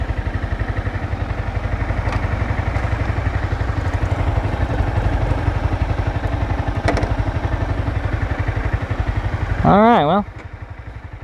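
A friend's Honda CBR 300 motorcycle with its engine running steadily throughout, a constant low mechanical drone, while people talk over it; near the end a brief higher whining rise swells and drops off.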